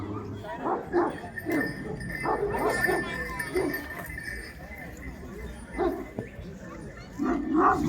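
Dogs, likely Anatolian shepherd dogs, give several short barks and yips spread through the clip, close by and under frequent talk and background noise.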